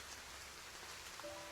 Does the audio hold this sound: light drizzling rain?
yes